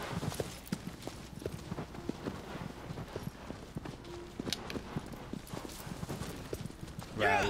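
Horse hooves clip-clop in steady rhythm in Shadow of the Colossus, a close, moderately quiet gait over ground, with a brief louder burst at the end.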